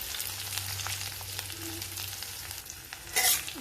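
Spiced potato paratha filling with red chilli powder stirred in a hot pan: continuous close sizzling with light scraping of the spoon, and a short louder scrape or clatter near the end.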